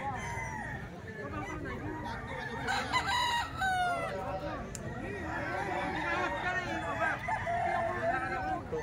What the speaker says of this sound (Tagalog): Manok dito sa Bukawi